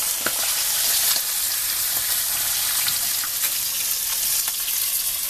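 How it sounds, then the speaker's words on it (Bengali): Pieces of katla fish fry in oil, a loud, steady, close hiss of sizzling with scattered small pops and crackles throughout. "এরকম লাল করে ভেজে নেবেন আপনি"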